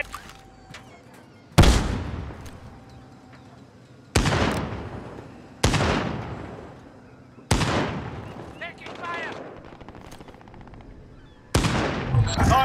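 Gunfire in the shooter game Overwatch Resurgence: five sharp, loud shot bursts separated by a second or two, each followed by a ringing decay, with faint background sounds between them.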